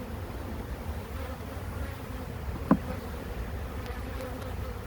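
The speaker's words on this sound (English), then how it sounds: "Look at how many bees are out collecting honey" A steady buzz of honeybees around a hive fills the air, continuous and moderately close, with one brief louder tap partway through.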